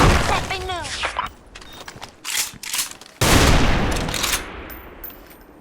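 A Barrett Siege sniper rifle in the shooter game Special Force 2 fires through wooden cover and walls, giving loud booming shots with crackling, shattering tails among mechanical clicks. Someone talks over parts of it.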